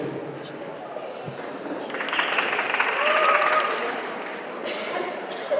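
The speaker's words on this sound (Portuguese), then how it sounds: "Obrigada pelas palmas" A debate audience gives moderate, fairly distant applause that swells in the middle and then tapers, with some room noise and faint murmuring underneath.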